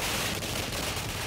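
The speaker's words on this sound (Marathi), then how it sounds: "तर फटाके फोडून आनंद साजरा केला." Firecrackers burst as party workers celebrate in Maharashtra, a dense, continuous crackle of rapid overlapping pops and bangs heard loud and close with no talk.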